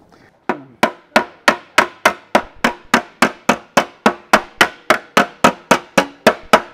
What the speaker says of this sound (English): then I'll start hammering those shrinks down